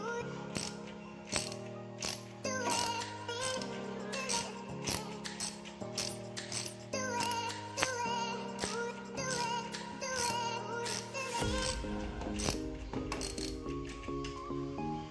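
Ratchet wrench loosening the shock cover bolt on a Sniper 150 motorcycle, a steady run of close, rapid mechanical clicks and ratcheting with no voices.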